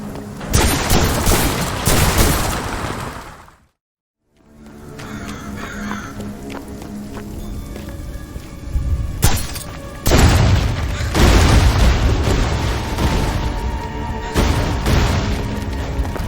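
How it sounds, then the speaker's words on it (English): Wrist crossbow firing in the fantasy shooter Graven, sharp thumping shots and impacts amid loud game ambience, with a brief silent gap partway through and dense bursts of action on either side. "This is one of the first weapons you can pick up in Graven, the wrist crossbow."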